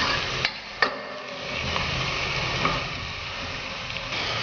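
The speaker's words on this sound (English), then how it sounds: "So few more minutes, we will fry it." Onions frying in a pan for a vegetarian methi pulav, a steady sizzle with a few sharp knocks and scrapes of stirring, close and continuous without talk.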